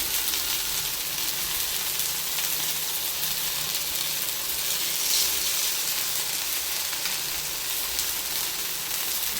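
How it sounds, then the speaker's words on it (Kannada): Rupchand fish frying in a pan over a low flame gives a steady, dense sizzle that stays fairly loud and unbroken, close up, with no voices. "ಇದು ಚೆನ್ನಾಗಿ ಫ್ರೈ ಆಗ್ತಾ ಇದೆ. ಆದಷ್ಟು ಲೋ ಫ್ಲೇಮ್ನಲ್ಲೇ ಇದನ್ನು ಫ್ರೈ ಮಾಡ್ಕೊಳ್ಳಿ."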